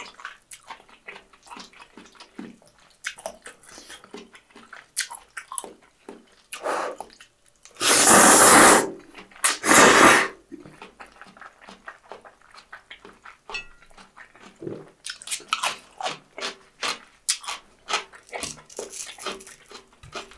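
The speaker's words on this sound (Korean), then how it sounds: "아주 고소하고 꾸덕해진 토마토 파스타를 먹는" Close, wet eating sounds of creamy rose tomato pasta at a pork-cutlet restaurant: soft clicks of cutlery, slurps and chewing, with two brief loud bursts near the middle and no talk.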